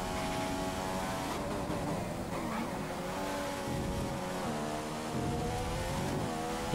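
Racing car from the game F1 2015 accelerates hard out of a corner in Malaysia qualifying, its high engine note climbing through upshifts continuously and loudly, with the rising harmonics filling the whole stretch.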